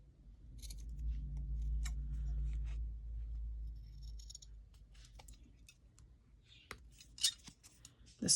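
Scissors snip through paper while cutting out craft charms, giving short crisp cuts and rustles over a low background hum that fades midway.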